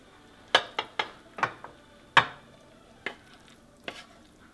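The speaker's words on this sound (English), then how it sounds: "Okay, venison taco meat all done for the week. Let's get it in the pan." Venison taco meat tipped into a pan in a series of sharp clinks and scrapes, about eight distinct knocks of utensil against pan over a few seconds, close and fairly loud with no talking.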